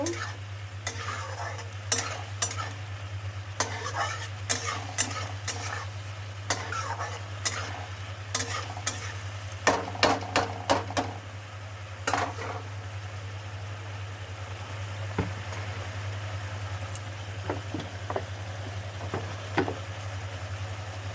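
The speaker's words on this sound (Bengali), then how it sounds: "মশলাটা ভালো করে কষিয়ে নেবো।" Spice paste for a mushroom and fish curry frying in a pan while a spatula stirs it, with a soft sizzle, repeated scraping and clattering strokes at an uneven pace, and a steady low hum underneath.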